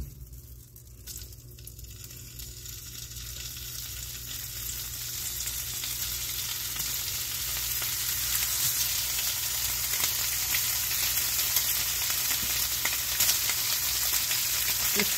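Chopped ham sizzles in a pan with a steady, continuous crackle that builds gradually louder over fifteen seconds. No one speaks over it.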